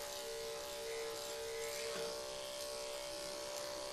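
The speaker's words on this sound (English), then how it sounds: "And then shave a little bit on their legs too" Electric clippers buzz steadily and closely while shaving the legs of a miniature schnauzer during grooming, a constant high-pitched hum with slight changes as the blades move through fur.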